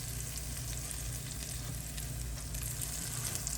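Fish and hush puppies frying in oil produce a loud, unbroken crackling sizzle that holds evenly throughout, with no voices.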